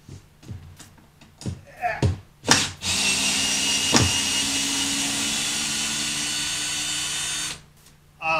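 A few clicks and clunks, then a Craftsman 19.2-volt half-inch cordless drill whines steadily for several seconds at close range while removing screws, before stopping; a sharp knock lands midway.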